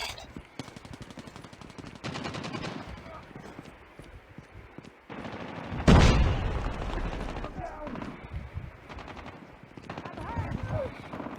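Gunfire in a PUBG or Call of Duty mobile match, bursts of shots and a loud blast amid game sound effects and in-game voice callouts, with one sharp, loud burst standing out midway.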